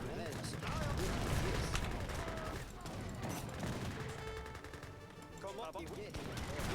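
Artillery and gunfire in the game Age of Empires III: Definitive Edition crackle as a dense battle din of shots and impacts, steady and busy throughout with voices talking over it.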